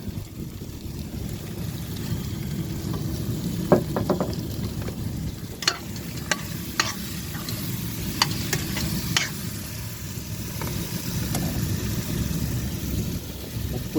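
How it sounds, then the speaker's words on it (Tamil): Tomato and turmeric masala fries in a pan under a constant close sizzle while a spoon stirs it, with scattered scrapes and knocks against the metal. "நல்லா கிண்டி விட்ருக்காங்க."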